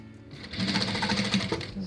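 A sewing machine stitches a bubble puff quilt bumper at a seam of about 0.7 to 1 cm, running in a fast, steady, close-up mechanical whirr with a brief dip near the end.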